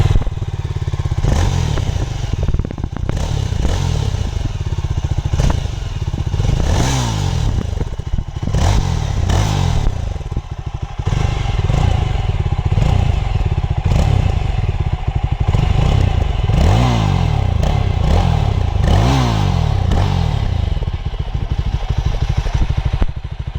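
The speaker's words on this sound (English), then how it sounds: "I'm pretty sure that most of you want to listen to this exhaust note as well" A Yezdi Scrambler motorcycle engine idles with a deep burbling twin exhaust, then is blipped in repeated sharp revs that rise and fall, loud and close.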